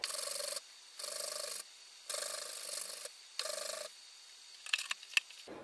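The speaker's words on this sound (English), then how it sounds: "So just a quick sanding here should fix that." A pistol part for a Stormy 45 build is sanded by hand in four steady, close rasping strokes, each about half a second to a second long, followed by a few light clicks and taps.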